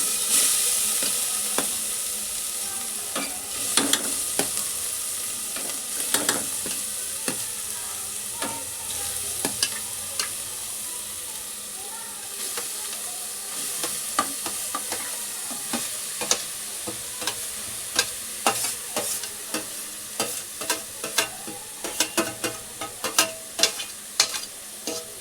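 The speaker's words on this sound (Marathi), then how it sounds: "आता मी किसलेला गाजर ऍड करते." Grated carrot for carrot halwa is stirred and fried in a pan, with a steady sizzle and frequent scraping taps of a spoon against the pan that grow busier toward the end.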